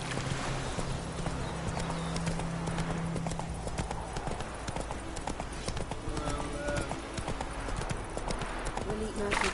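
Hooves from Roach, a horse in The Witcher 3, clip-clop loudly and rhythmically the whole way through, under talk and background game music.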